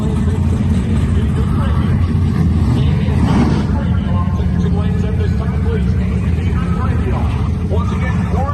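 A drag racing car makes a pass at Sick Week, its engine a loud, continuous low roar that holds steady throughout, with a voice talking over it.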